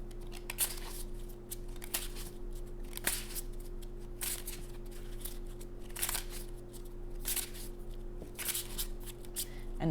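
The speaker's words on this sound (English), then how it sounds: "Let me give this a shuffle." Tarot cards being shuffled by hand, quiet repeated riffling bursts at an irregular rhythm, close to the microphone, over a faint steady hum.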